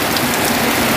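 Heavy rain pours down steadily in a dense, unbroken hiss at close range, loud and constant throughout with no voices.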